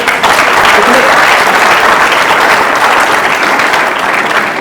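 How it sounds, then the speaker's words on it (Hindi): A large student audience at IIT Roorkee breaks into loud, dense applause for a guest speaker, a continuous close wash of clapping that holds steady the whole time. "बार सर के लिए तालियां हो जाए"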